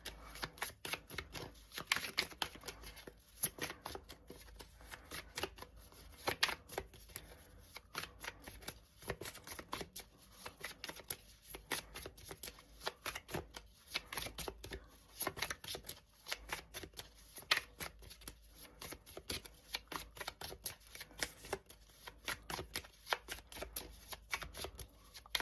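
A tarot card deck is shuffled continuously, with a steady, dense riffle and rustle of cards slapping together, close and fairly soft, running on without any voices.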